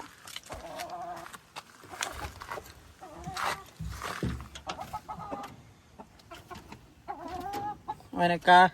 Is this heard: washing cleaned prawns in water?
no